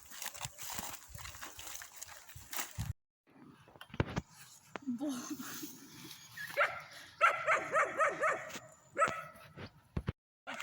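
A dog barks repeatedly at close range in a noisy outdoor setting, with bursts of yapping and whimpering mixed with rustling.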